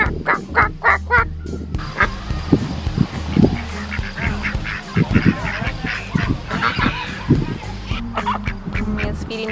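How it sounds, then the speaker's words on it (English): Farm ducks call in loud, rapid honking bursts, mixed with goose-like honks through the clip, while people talk and a voice chatters over the animals. "We have some ducks. Quack, quack, quack, quack, quack."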